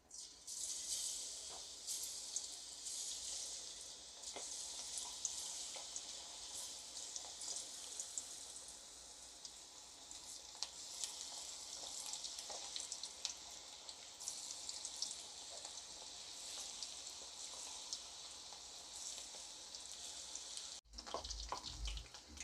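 Ragi pakoda batter sizzling in hot oil, a steady soft crackle and hiss with scattered pops that runs on evenly for a long stretch, fairly quiet and with no voices.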